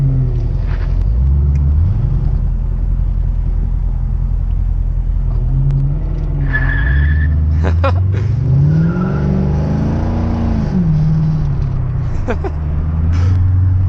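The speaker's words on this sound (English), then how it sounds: "He spun his tires too." A 1985 Corvette engine rumbles and revs loudly, with a short high chirp of tires spinning briefly on pavement amid the engine noise.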